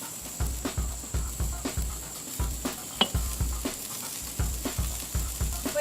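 Bacon-wrapped food sizzling on a charcoal grill, with a constant fatty hiss and crackle, punctuated by rhythmic low thumps, close and steady, with no talk.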